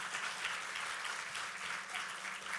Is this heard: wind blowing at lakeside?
no